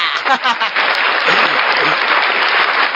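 Loud, dense audience applause and cheering for a singer at a fan talk event, steady throughout with a few whoops mixed in.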